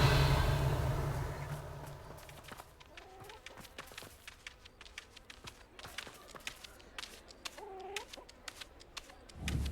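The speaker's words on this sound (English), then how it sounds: "I love you, chickens." Chickens clucking in the video game Hogwarts Legacy: a couple of short rising clucks over a scatter of soft footstep-like taps and clicks, quiet and intermittent, with no talk.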